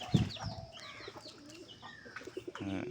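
Soft pigeon cooing and a few bird calls come from close by at a pigeon loft at feeding time, with a brief louder low call at the start and another near the end.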